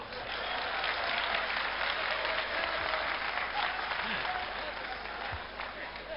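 Steady applause from a large crowd at a comedy show in a Kumbh Mela camp in Ujjain, sustained clapping heard throughout at a moderate distance without a break.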